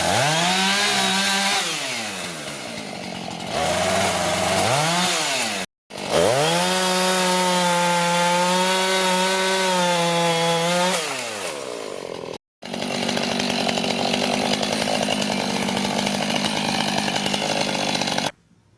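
A chainsaw trimming trees while clearing woodland for firewood, revving loudly up and down through several cuts with brief pauses, then settling into a rough, steady bite through the wood.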